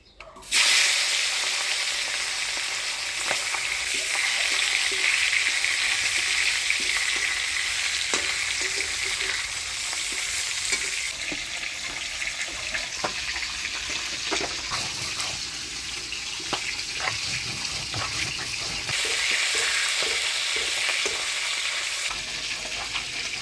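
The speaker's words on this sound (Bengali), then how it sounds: "এই তেলের মধ্যে আর একটু তেল দিয়ে দিলাম, মুড়াগুলোও ভেজে নিব।" Rohu fish heads frying in hot oil, a loud, steady sizzle throughout with occasional spatters and utensil knocks, no voices.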